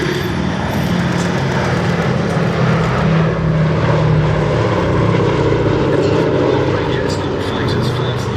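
A propeller aircraft flies at the Duxford airshow, a loud, steady engine drone that dominates throughout, with no clear voices over it.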